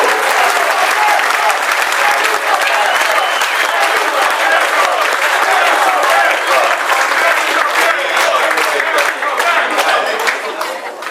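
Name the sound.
applause for Carlos Alberto Silva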